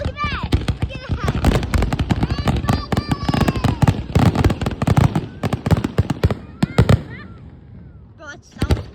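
Fireworks explode overhead in a dense, loud barrage of cracks and booms, rapid and overlapping like a finale, while people talk and exclaim underneath.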